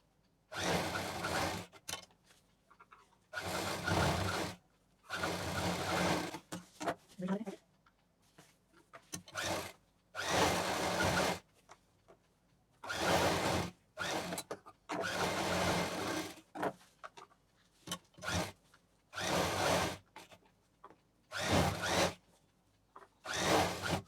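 Sewing machine stitches in repeated short bursts over the folded belt of a patchwork cloth shopping bag, each run lasting a second or two with pauses between.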